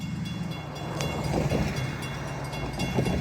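A northbound FEC freight train from Miami rolls past a crossing at track speed, a steady broad rumble with faint clatter of wagons, heard from nearby with no voices.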